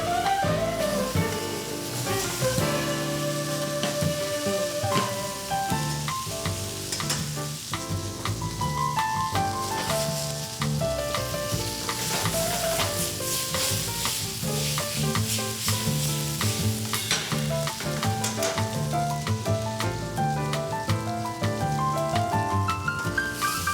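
Food sizzles and is stirred in very hot sauté pans in a busy holiday kitchen, a dense, steady frying crackle with scraping and clattering pan sounds running throughout, close and loud with no talk.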